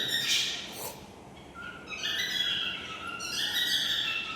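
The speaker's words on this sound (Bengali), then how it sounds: "দেখো আমার পাখিগুলো কি সুন্দর ডাকছে" Several cockatiels call in a run of shrill, repeated whistles and squawks, fairly close and clear, with pauses between bursts and a faint background hiss.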